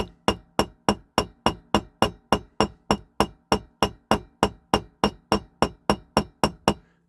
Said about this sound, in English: And then I'll go around with my hammer.